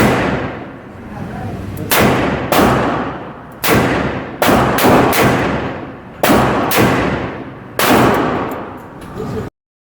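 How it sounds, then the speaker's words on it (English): An Armscor M200 revolver fires in double action: a string of about ten loud, sharp gunshots at uneven intervals, each followed by a long ringing decay, close to the listener, with no talking. "the gun appeared to function very well in double action"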